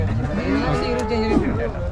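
A cow at a cattle market gives a long, loud, close moo that lasts the whole moment, with faint background noise from the market behind it.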